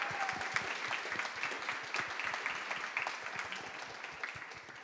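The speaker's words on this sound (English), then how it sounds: "Big round of applause." Sustained audience applause at an art symposium for a Golden Lion-winning pavilion artist, a dense even patter of many hands, moderately distant and steady throughout.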